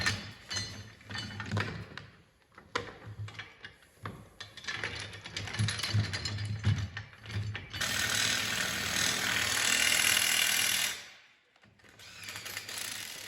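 Nut drivers snugging fasteners on a rubber track assembly in a workshop, quick ratcheting clicks and metallic clinks, then a louder whirring burst of a few seconds that cuts off abruptly.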